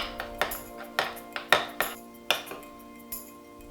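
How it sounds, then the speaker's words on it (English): A utensil clinks and taps against a bowl while burger sauce with diced pickles is stirred, giving a dozen or so sharp, uneven metallic knocks spaced across a few seconds in a quiet room. "We're going to mix that until it's well combined and it should be creamy."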